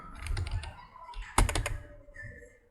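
Clicky keystrokes of someone typing on a computer keyboard while coding a Node.js WebSocket chat server, a burst of close, uneven taps with one louder thump midway, fading out at the end.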